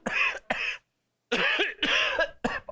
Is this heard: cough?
yes